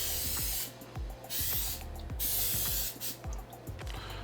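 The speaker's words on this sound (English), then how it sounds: "we want to spray the inside with a little bit of cooking spray" A cooking spray can hisses in several bursts into a bowl, separated by short clicks and rattles from the nozzle. The sound is close and fairly loud, with no talking.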